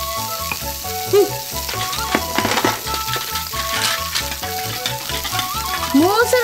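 Gyoza dumplings fry in a pan at home, a steady close sizzle and crackle of oil running throughout, with scraping or stirring touches and light background sounds.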